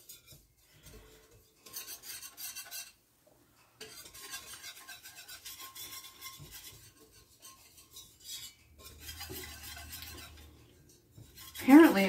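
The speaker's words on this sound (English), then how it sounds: "And we're going to stir." A spoon stirs flour into hot fat for a roux, scraping and rasping against the pan in repeated bursts with brief pauses. Faint sizzling sits underneath, and the stirring grows louder and sharper toward the end.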